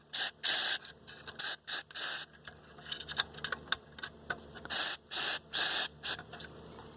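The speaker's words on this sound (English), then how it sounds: "let's get some deox and hose this thing" Contact cleaner sprayed into the switches of a vintage Kenwood KA-8150 integrated amplifier, a series of loud close hissing bursts with scraping and clicking between them.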